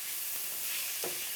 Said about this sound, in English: Things are frying away just nice.